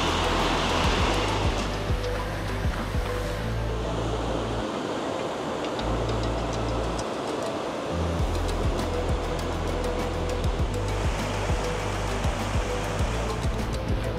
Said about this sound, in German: Ja, das soll ja eigentlich ein kleiner Bach sein. Und ihr seht ja und hört ja auch, wie viel Wasser hier gerade geführt wird.